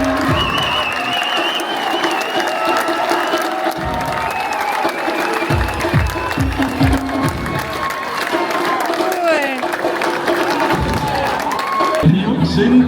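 An outdoor crowd at a Schalke 04 fan night welcomes the FC Schalke 04 team with sustained applause, cheering and whistles, loud and dense throughout, with someone speaking over a PA.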